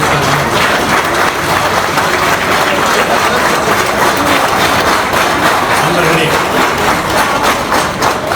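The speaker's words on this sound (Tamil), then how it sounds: "நம்முடைய கைத்தட்டல் தான்" Loud, sustained applause from a large audience at a speech, a dense wash of clapping that holds steady from start to finish.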